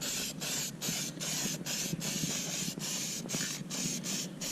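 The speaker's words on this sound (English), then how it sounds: "This is Rust-Oleum Farm and Implement paint for" Rust-Oleum Farm and Implement gloss black paint sprayed from an aerosol can onto a lawn mower deck, a steady close hiss broken by short regular gaps as the nozzle is released and pressed again.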